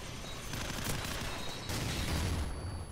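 Grenade blasts and gunfire in a Call of Duty 4 multiplayer match, likely on the Shipment map, form a dense, continuous roar of overlapping booms and shots with two louder surges, steady and loud throughout.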